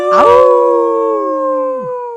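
A voice imitates a wolf, letting out one long, loud, close howl that starts sharply, holds a steady pitch, then drops away at the end.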